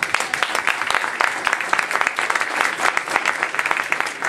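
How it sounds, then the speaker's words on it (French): An audience at a Paris forum event applauds warmly, a dense steady clatter of many hands clapping at close range throughout. "je crois qu'on peut les applaudir déjà très fort."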